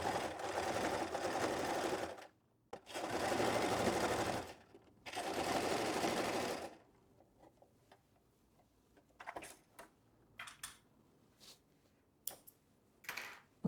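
A sewing machine stitches the dart of a kebaya in three loud, sustained runs separated by brief pauses, followed by scattered quiet clicks and taps of the machine and fabric handling.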